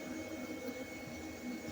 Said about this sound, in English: Do my best not to stick my vacuum in the comb